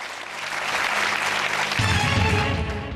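A game-show studio audience breaks into loud, sustained applause, many hands clapping steadily without voices over it.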